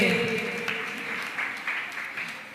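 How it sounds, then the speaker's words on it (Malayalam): Light, scattered clapping from a small audience at a 40th anniversary gathering, fairly faint and thinning out over a couple of seconds. "എങ്കിൽ കൈയടിച്ചാട്ടെ."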